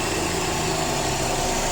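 A Toyota Vios with a manual gearbox idles with its hood open, a steady, even engine hum with light mechanical vibration, close and constant, with no voices.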